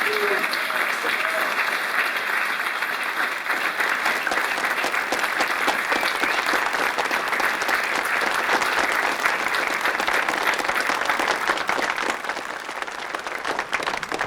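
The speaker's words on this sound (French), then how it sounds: "On les applaudit très fort" A school audience applauds two young classical guitar soloists at a ciné-concert with an orchestra, a loud, continuous wash of clapping that fills the hall without pause and eases slightly near the end.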